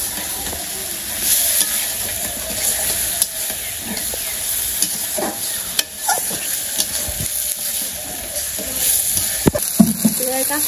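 Fish frying in hot oil in a pan in a village kitchen, a continuous sizzle broken by scraping stirs and occasional sharp clatters, close and fairly loud, no talk.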